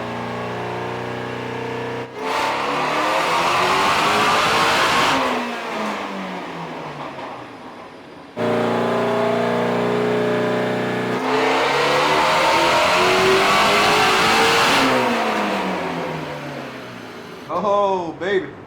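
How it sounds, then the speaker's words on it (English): Supercharged Shelby GT350R V8 on a chassis dyno, loud prolonged revving sweeps that climb and fall, two long pulls separated by a drop, ending with a brief rev. "They were gracious enough to allow us to use their dyno to get this badass 350R and dyno it"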